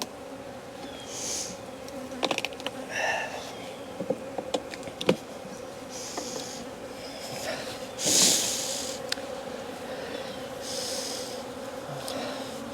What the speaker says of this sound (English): We've got just a lot of bees here.